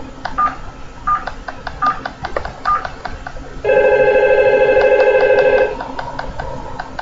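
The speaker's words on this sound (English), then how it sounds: "So if I dial 4444" Simulated phone in Cisco Packet Tracer dialing the number 4444: four short, evenly spaced keypad tones, then a steady, louder ringback tone for about two seconds, clean and alone with no talk.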